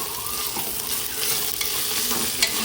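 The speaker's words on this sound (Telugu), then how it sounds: "ఇప్పుడు అల్లం వెల్లుల్లి పేస్ట్ వేసుకొని కలుపుకోవాలా చూసారా ఆనియన్ ఎలా ఫ్రై అయిందో" Fried onions with ginger garlic paste stirred in for a mutton curry, a close, busy sizzle with spoon scraping and stirring against the pan.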